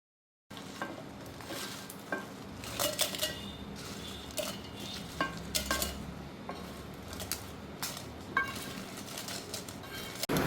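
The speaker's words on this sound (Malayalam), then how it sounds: "ആദ്യം കുറച്ച് വറ്റൽമുളക് വറുത്തെടുക്കാം" Dry red chillies are roasted in a pan for a shark curry, with steady faint sizzling under repeated scrapes and clinks of a stirring utensil against the metal, close by and without talking.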